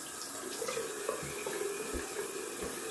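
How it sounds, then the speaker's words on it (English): Water runs from a tap into a sink while a face is rinsed after a wet shave, a steady close splashing flow with small gurgles, no voices. "I just rinse off."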